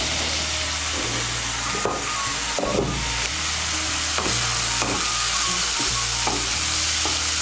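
Mixed vegetables for a vegetarian flattened-rice pulao fry over high heat in a pan, a constant close sizzle punctuated by rhythmic scraping stirs about once a second, with no voices.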